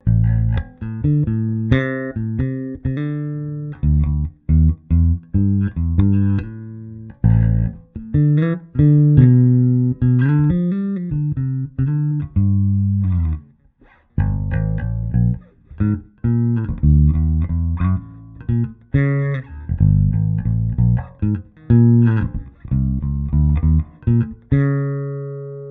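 Squier Classic Vibe 60's Jazz Bass played through amp emulations, a clear, punchy bass line of plucked notes and slides running alone with occasional short pauses.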